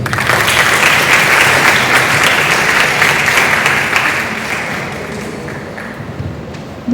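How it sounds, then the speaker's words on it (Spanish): An audience at a school forum and conference claps to welcome a speaker, strong dense applause that gradually thins and fades toward the end, heard alone without talk. "Recibámosla con un fuerte aplauso."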